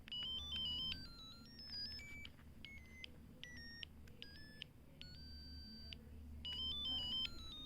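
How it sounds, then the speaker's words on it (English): An electronic ringtone on an old Nokia-style beeper phone plays a bright, beeping melody of short stepped tones, fairly quiet over a low background hum, with no voices. "Let me play a ringtone on it"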